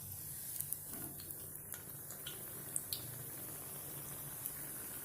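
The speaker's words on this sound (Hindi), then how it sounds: "स्प्रिंग रोल जो है वो अच्छे से फ्राई होने शुरू हो गया है" Spring roll shallow-frying in hot oil, a faint steady sizzle with occasional small pops and crackles, no talking.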